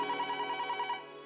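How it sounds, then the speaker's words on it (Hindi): An old-style telephone bell rings in a rapid trilling burst lasting about a second, then fades out. It sounds close and fairly loud. "ये फोन बजा."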